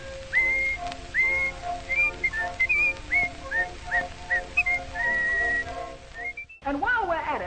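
A man whistles a lively tune as a melody of quick rising phrases over a band accompaniment, in an old minstrel-show recording; the whistling carries clearly throughout before a brief break and a busier final flourish.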